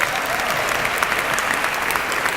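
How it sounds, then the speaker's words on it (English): Audience at a fundraising event in Buffalo, NY clapping in a steady, dense burst of applause, moderately loud and continuous. "Another round of applause, please."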